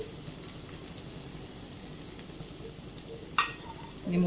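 An egg fries in a pan for a cheese garlic sandwich, a soft continuous sizzle with light crackle, fairly quiet and close, with a brief clatter near the end.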